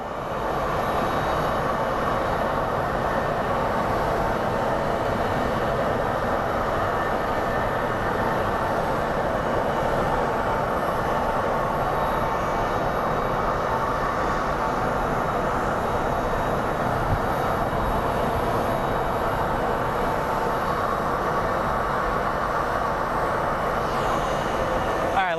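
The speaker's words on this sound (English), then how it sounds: "up next, we have a JSX Embraer 135 coming in from Las Vegas" A JSX Embraer 135 jet arriving from Las Vegas at Phoenix Sky Harbor airport: a sustained, loud, broad engine roar holds steady throughout, heard from the ground.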